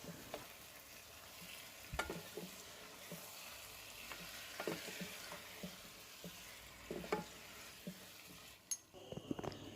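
Masala with tomato ketchup is sautéed in a pan for Mughlai chicken, a soft continuous frying hiss broken by repeated spatula scrapes and stirring knocks, close and without talk.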